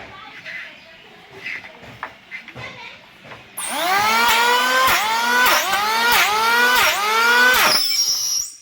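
A loud electric kitchen blender making tamarind juice whirs in a strained, rising whine that repeatedly bogs down and surges, as if jamming, after a few seconds of quieter kitchen noise with distant voices.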